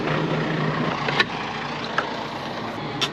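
A tractor engine idles steadily nearby as it warms up after manure spreading, a continuous diesel rumble broken by a few faint clicks.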